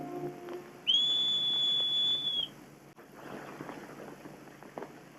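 A single sharp whistle blast rings out for about two seconds, loud and steady, then fades into quiet background noise, in the 1955 film Marcelino Pan y Vino.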